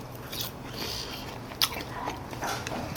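Crispy Korean sweet and sour pork (tangsuyuk) bitten at a Chinese restaurant, a bite on a piece without sauce giving two sharp crunches over soft background clatter.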